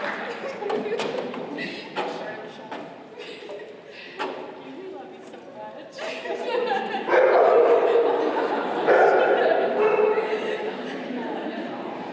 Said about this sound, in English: Katy, Allie, Bree, come get your dog.